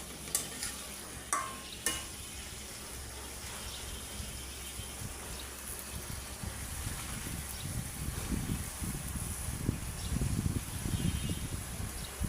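Malabar spinach greens are stirred in a pan, giving a soft steady sizzle with scraping and rustling that grows louder and busier toward the end, a few sharp knocks near the start.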